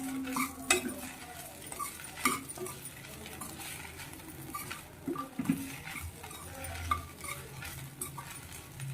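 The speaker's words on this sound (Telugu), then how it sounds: "ఈ ఇడ్లీ ముక్కలు కూడా కొంచెం వేయించుకోవాలి." Idli pieces fry in a pan over a quiet, steady sizzle while a spoon stirs them, producing soft scrapes and occasional light metallic taps.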